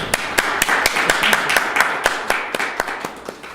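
Applause greeting a jazz interview guest, a rhythmic run of loud, close, evenly spaced claps from a small group, steady for several seconds with no voices over it.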